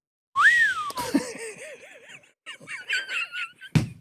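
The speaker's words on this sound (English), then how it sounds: "a great whistle." A person whistles clearly up close: a rising then falling note, a warbling trill, then a run of short melodic tones, ending with a sharp breathy burst.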